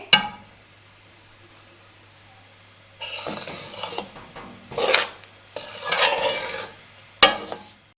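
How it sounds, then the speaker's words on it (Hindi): Maida flour being roasted and stirred in a kadhai: a spoon scrapes and rasps against the metal pan in several bursts, the loudest near the end, after a quiet stretch at the start, with no talk. "अभी इनका कलर एक जैसा नहीं है तो फिर मैदे को हम थोड़ा सा और भून लेंगे।"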